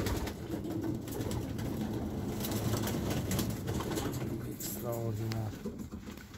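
Pigeons coo inside a pigeon breeding loft in Romania, soft murmuring calls blending into a busy background, with someone talking over them throughout.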